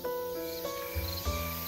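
A summer-night chorus of cicadas and other insects, from a played recording: continuous, evenly layered buzzing and chirring at moderate volume, with no one speaking.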